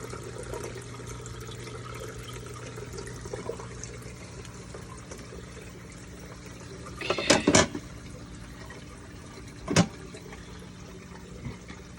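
Water runs through an aquarium algae scrubber set by a ball valve, a steady low trickling hum broken by two brief louder splashy bursts and one faint late splash.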